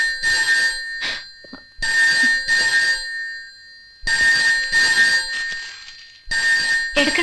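A telephone rings in repeated bursts, loud and clear, with short silent gaps between the rings.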